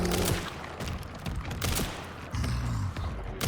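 Handgun fire from the PC game Resident Evil: Requiem, played on standard difficulty, comes as a rapid string of loud, punchy shots and impacts with booming low thumps, dense and overlapping across the whole stretch.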